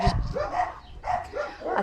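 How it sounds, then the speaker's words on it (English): Dogs bark and yip in short bursts, close and fairly loud, with whining tones mixed in. "they're just barking at each other"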